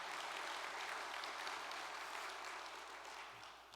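A large audience of about five thousand congregation members at a church gathering gives a sustained applause of thanks, a dense, even wash of clapping heard from a distance, fairly quiet and slowly tapering toward the end.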